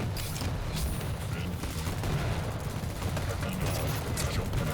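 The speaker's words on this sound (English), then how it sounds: "3 frags with a nail gun" Dense, continuous rapid gunfire from a Quake World Championship match, with a nail gun among the weapons racking up frags in the busy mix, loud throughout with commentary voices underneath.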